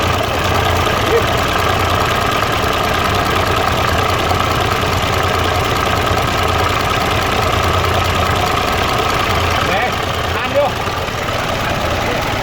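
A car engine in a workshop, reportedly with a damaged piston, runs steadily and loudly with a rough, knocking idle throughout, and voices talk faintly beneath it.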